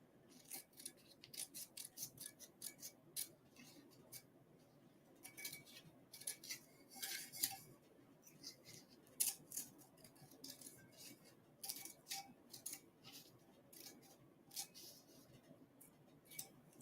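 Scissors cut through sublimation paper for a tumbler, a quick run of crisp snipping strokes in uneven bursts with short pauses, close and quiet.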